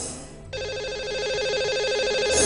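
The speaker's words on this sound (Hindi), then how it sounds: "तो लगाते हैं इन्हें अब कॉल और करते हैं इनसे बात" A telephone rings on an outgoing call to a lucky caller on a broadcast show, a steady electronic ringback tone that starts abruptly after a brief pause and holds at a clear, even level.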